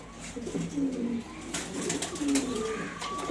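Pigeons coo in low, rolling bursts, two clear calls about a second apart, from a male pigeon sitting on eggs, with a steady background hum and faint scratchy noise.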